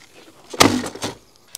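A thud against an old door leaned up out of the way in a screened patio being converted to a room, one sharp knock with a short rattle, then a lighter tap a moment later, fairly close.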